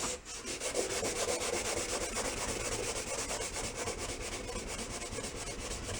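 Sandpaper rubbing steadily across a vintage 1950s cola thermometer, a continuous close scratchy rasp with quick back-and-forth strokes and no talking.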